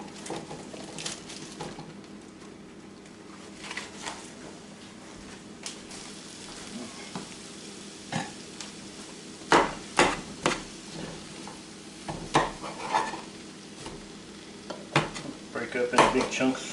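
Eight ounces of cremini mushrooms fry in butter in a pan, with a continuous low sizzle broken by sharp clanks and scrapes of a utensil stirring against the pan. The clatter grows busier toward the end, and no one speaks.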